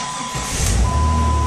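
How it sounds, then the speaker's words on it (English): Truck engine cranked back up after being shut off, a low rumble swelling quickly to a steady loud idle, close by with no voices. "I'm going to shut this truck off, and then I'm going to start it back up."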